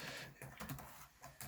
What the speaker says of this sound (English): I do think this keyboard is faster to type on.